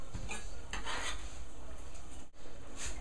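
A seafood spaghetti sauce is stirred in a pan with a continuous rough scraping and swishing, close and fairly loud, broken by one brief pause near the end.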